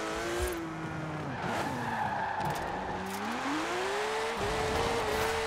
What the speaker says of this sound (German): mit Handbremse wollte ich auch mal probieren, hier ein bisschen quer zu fahren.